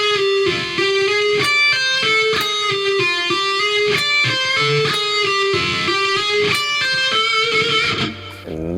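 Electric guitar playing a lick at a slow practice tempo, with hammer-ons and pull-offs through a repeating group of notes: a bright, sustained distorted tone, close and clear, notes flowing legato without pauses and no talking.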